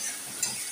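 A short, steady sizzle of spices frying in oil in a pan, close and even, with one small stir bump partway through.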